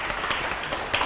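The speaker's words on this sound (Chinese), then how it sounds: "好，请各位鼓掌一下。" An audience claps steadily at a Buddhist dharma lecture, a dense, even patter of many hands with no voices over it.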